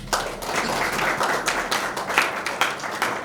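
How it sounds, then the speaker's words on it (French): Audience applause at an election and handover ceremony, a steady wash of many hands clapping at moderate distance, sustained throughout with no talk over it. "Je souhaiterais que vous applaudissiez cela, s'il vous plaît."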